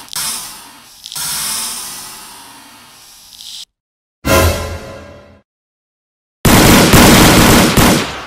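Cartoon gunfire from an animated Squid Game parody comes in loud, close machine-gun bursts separated by abrupt silences, with whooshing tails as each burst fades.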